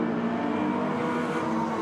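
Hornet-class race cars lap the Agassiz Speedway oval during an enduro championship event, their engines a loud, steady, continuous drone close by, without any talking.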